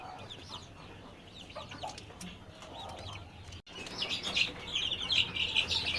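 A group of 17-day-old Fayoumi chicks chirps in a shed with heating lights, making many overlapping high, thin peeps that grow louder and denser toward the end.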